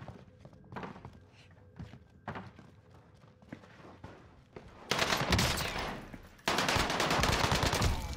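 Kilo 141 rifle gunfire in Warzone's Rebirth Island: scattered thumps and single shots early on give way to two long, loud sustained bursts of automatic fire, close and dense, with only faint background game noise.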